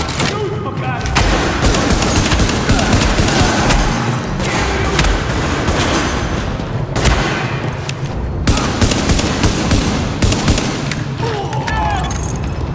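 Sustained, loud gunfire fills a battle in the video game The Division, with dense bursts of automatic fire and heavy booms continuing almost without a break while voices talk underneath.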